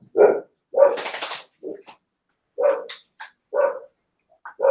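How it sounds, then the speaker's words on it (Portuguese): A dog barks in short, loud bursts close by, about six barks spaced irregularly with brief gaps, with a couple of softer yips between them and no one talking. "tem cachorro que vai latir"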